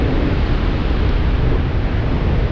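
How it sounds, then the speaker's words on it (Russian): Water rushes through the raised spillway gates of the Bratsk hydroelectric dam on the Angara River. It makes a loud, continuous, dense roar that stays steady throughout with no talking. "И вот эту водичку, вот их приподняли, и водичка побежала."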